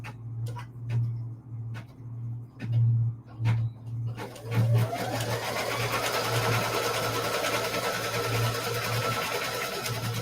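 Embroidery sewing machine stitching a placement line on a placemat, a steady fast mechanical whir with rhythmic ticking that starts after a few sparse clicks and runs continuously at close range.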